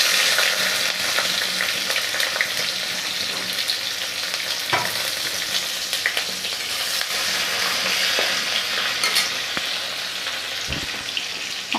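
Onions fry in oil over a medium gas flame with a loud, steady crackling sizzle and occasional stirring scrapes, close up and without talk.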